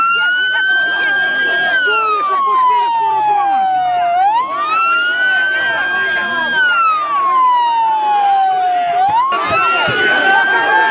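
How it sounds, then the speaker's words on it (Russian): A loud wailing ambulance siren rises and falls in long sweeps, with a crowd shouting and talking in Russian underneath throughout. "Это скорая помощь, ребята"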